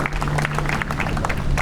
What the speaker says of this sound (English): Let's have a rousing round of applause for our master of ceremonies